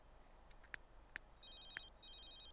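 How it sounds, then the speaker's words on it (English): A telephone in The Sims 3 rings with repeated electronic chirps, followed by a sustained warbling ringtone pattern, fairly quiet and alone. "Oh, the phone!"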